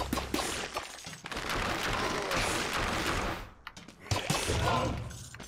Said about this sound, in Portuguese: Quando eu bato com a espada, ele dá tipo um tiro